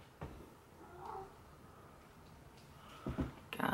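A cat meows a few times after knocking something over indoors, faint and fairly close, with short bursts separated by quiet room tone.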